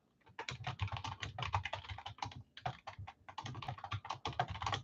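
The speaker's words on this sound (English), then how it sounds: "I know the typing is loud." Loud typing on a computer keyboard: rapid, dense clattering keystrokes in uneven bursts with brief pauses, close to the microphone and alone without talk.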